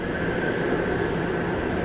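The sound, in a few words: train passing in a Touhou fangame (video game)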